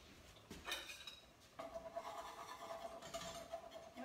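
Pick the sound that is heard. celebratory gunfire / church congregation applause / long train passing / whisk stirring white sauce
whisk stirring white sauce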